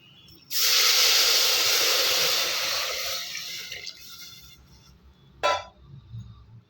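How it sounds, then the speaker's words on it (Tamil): Water poured into a cooking pot of rice and lentils for ven pongal, a loud hissing rush for about three seconds that fades, then a brief second splash. "இப்போ வந்து தண்ணி சேர்த்துக்கலாம்"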